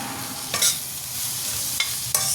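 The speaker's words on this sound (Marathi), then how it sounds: "परतून घेऊया।" Cabbage and spring onions with red chilli stir-fried in a pan for fried rice, giving a steady close sizzle broken by a few brief scraping stirs of the spatula, with no voices.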